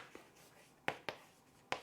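Chalk or a pen writes on a board during a math lesson: one faint tap, then three short, sharp strokes in a quiet room.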